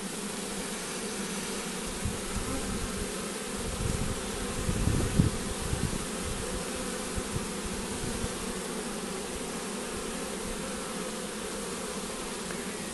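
A thick swarm of honey bees hums continuously on a hive board around their queen, with a slight swell and a few soft bumps partway through, close and steady with no talking.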